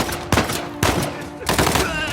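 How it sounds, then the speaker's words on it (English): Shotgun fire in Uncharted: The Lost Legacy, three loud blasts spaced about half a second to a second apart, each trailing off amid game background noise. "Shotgun!"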